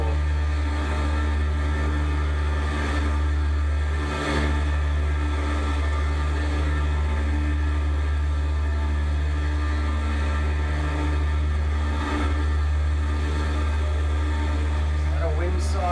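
Cessna Skymaster push-pull twin piston engines drone steadily in flight, a constant deep hum with a strong low tone and broad cabin noise throughout, loud and unbroken.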